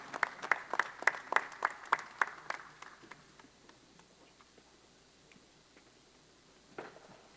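Applause for boxer Daniel Jacobs after his fight, a few sharp claps in a quick run from what sounds like a single person nearby, tapering off into quiet after about three seconds.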